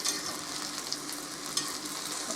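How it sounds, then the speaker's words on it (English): Sausages fry in a pan with a steady bright sizzle that runs close and constant, and a couple of brief clicks come through as they are turned over. "I'll just turn the sausage over."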